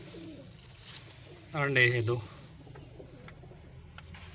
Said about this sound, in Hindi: इधर मेन बड़ा छत वाला कबूतर बैठा है